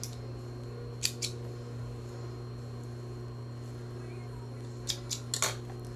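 Scissors cutting fabric for a homemade face mask: one crisp snip early on, then a quick run of several close snips near the end over a steady mechanical hum.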